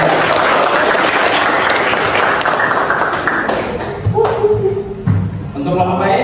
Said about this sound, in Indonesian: Kita beri aplaus yang baik